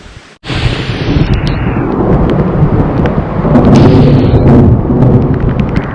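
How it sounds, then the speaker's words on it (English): Thunder during a storm: a sudden loud crack followed by a long, deep rolling rumble that swells and lingers, with rain hissing underneath. "the thunder's coming."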